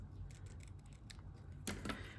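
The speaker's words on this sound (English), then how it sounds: "And get my ribbon scissors." Two quick snips of ribbon scissors cutting ribbon for a bow near the end, sharp and close, after a stretch of quiet rustling handling sounds.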